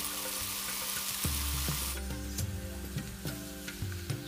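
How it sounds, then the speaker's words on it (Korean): Seasoned sauce poured into a pan of frying pork belly for gochujang pork bulgogi, setting off a loud close sizzle that keeps crackling and popping while the meat is stirred. "양념해 놓은 양념장을 넣겠습니다."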